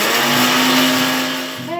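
Electric mixer grinder whirring loudly as it grinds a spice paste for Bengali egg curry, a steady high motor whine that drops in pitch near the end as it slows and stops.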